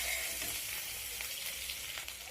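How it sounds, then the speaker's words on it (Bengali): Prawns frying lightly in a pan while being turned, a steady dense sizzle that fills the short stretch with faint stirring, no voices. "চিংড়ি মাছটাকে আমি মিনিট খানেক এইভাবে নেড়েচেড়ে ভেজে নেব।"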